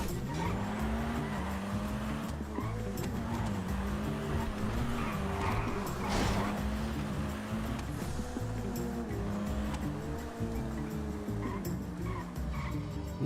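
Car engine and tire skids from a video game play continuously, with rising and falling engine whine and intermittent squeals, steady and fairly loud throughout, no talk.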